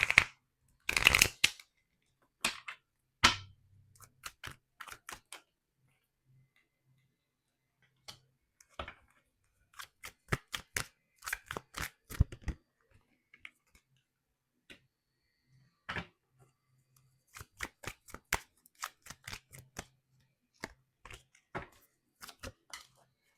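Tarot cards being shuffled and drawn, with a loud riffle at the start followed by scattered soft snaps, taps and flicks of cards being laid out, close and quiet, with no talk.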